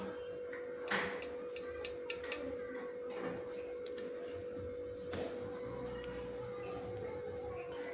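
A metal spoon scrapes and taps at a sticker on a freshly heated new pot, with scattered clicks and a few sharper scrapes over a steady faint hum, close and fairly quiet.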